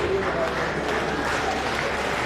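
A crowd claps steadily and densely throughout, a continuous wash of applause with some voices mixed in.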